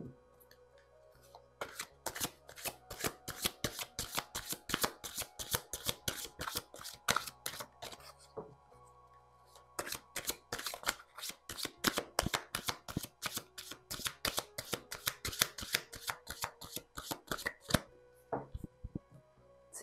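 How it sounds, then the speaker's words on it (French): Playing cards being shuffled by hand in quick riffling bursts, sharp crisp flicks close to the microphone, with a short break midway and no speech. "le temps de battre les cartes"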